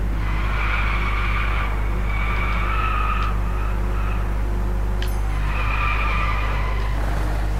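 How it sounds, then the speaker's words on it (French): A car drifts in the racing video game Driveclub, its engine droning steadily while tyres squeal in several drawn-out skids over the run, with no voices. "Je vais essayer de faire un drift magnifique."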